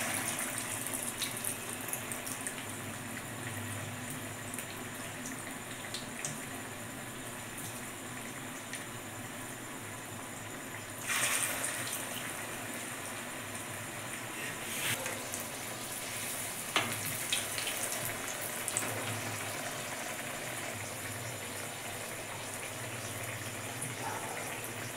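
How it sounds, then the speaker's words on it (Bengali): Ash gourd pakoras frying in hot oil, a steady broad sizzle and bubbling that runs throughout, with occasional brief clatters and bursts of louder spitting as pieces are added. "এবার তেলের মধ্যে এক এক করে পকোড়া আমি ভাজবো।"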